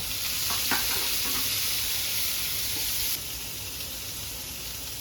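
Onion pieces frying in a pan, a steady broadband sizzle with a few scraping stirs early on; the sizzle drops slightly in level partway through but continues to the end, no voices.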